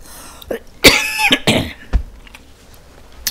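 A few sharp, loud coughs close by, bursting out in quick succession with short pauses between them.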